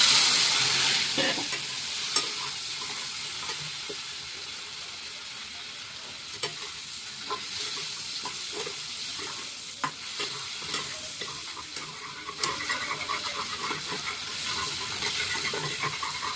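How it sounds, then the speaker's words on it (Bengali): Prawns sizzle steadily in a hot pan while a utensil scrapes and clinks against the metal at irregular intervals, close and continuous. "চিংড়ি মাছটা একটুখানি সাপলে দেবো"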